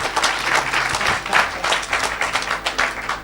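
A church congregation at a Saturday deliverance service bursts into sustained, dense applause and cheering for Jesus, loud and continuous throughout.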